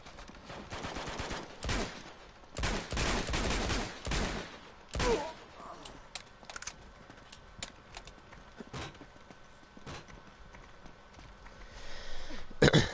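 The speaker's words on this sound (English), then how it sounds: "I'm just gonna keep shooting. I'm gonna waste the ammo." Repeated pistol shots in the video game Uncharted 2: Among Thieves ring out as a loud cluster of sharp reports early on, then thin to scattered quieter pops over a low background, with a final burst near the end.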